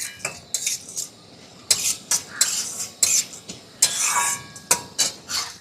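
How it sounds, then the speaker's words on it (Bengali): Chana dal fries in a little oil in a pan, heard as sharp metallic scrapes and clinks of a spatula stirring at an irregular pace, close and fairly quiet with no talking. "এবারে আমি এর মধ্যে দিয়ে দিচ্ছি কিছুটা ছোলার ডাল। ডালটাকে খুব ভালো করে ভেজে নিতে হবে।"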